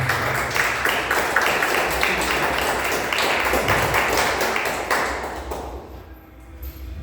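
A church congregation claps together in steady, rhythmic unison for several seconds, loud and full, then the clapping fades out toward the end.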